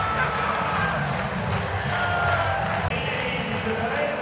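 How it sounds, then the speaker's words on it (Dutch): A large football stadium crowd roars in a continuous, distant wash of cheering and noise, with no clear individual voices standing out. "En horen het publiek dan gaan"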